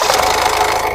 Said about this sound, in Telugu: సింగిల్ సెల్ఫ్ లో కార్ స్టార్ట్ అవుతుంది, ఎటువంటి స్టార్టింగ్ ట్రబుల్ అయితే లేదు. ఇంజన్ యొక్క నాయిస్ కూడా చాలా స్మూత్ గా అయితే ఉందండి.